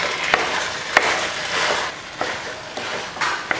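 Tamarind rice being stirred together with potato masala in a pan, a steady scraping and mixing rustle with occasional sharper clinks of the spoon against the metal.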